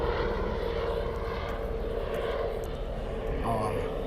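An airplane flying overhead makes a steady, loud engine drone that fills the whole stretch, while people talk beneath it.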